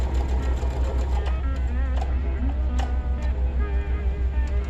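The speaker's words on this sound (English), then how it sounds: "just top stitch around it twice" Sewing machine topstitching twice around the seams of a fabric face mask with elastic ear pieces, giving a steady, continuous motor hum at close range with no talking.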